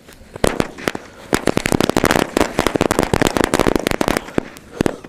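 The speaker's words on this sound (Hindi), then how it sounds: "मलिंगा फटाफट से लगा दो इन पटाखों की लड़ी को आग" A rapid string of sharp firecracker bangs crackles loudly and irregularly for several seconds, dense bursts overlapping near the listener.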